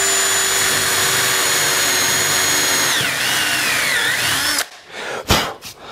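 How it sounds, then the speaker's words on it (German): A power drill with an 8 mm wood bit whirs loudly and steadily, its pitch dipping as it bores a pilot hole into wood, then stops abruptly, followed by a few soft knocks. "Ihr nehmt ein, habe ich mir noch parat gelegt, einen Holzbohrer"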